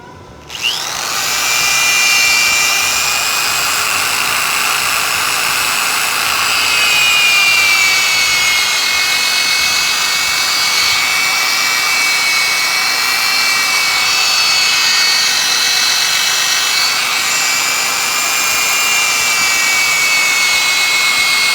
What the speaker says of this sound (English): This is the final sanding process, so I've already done some of the sanding.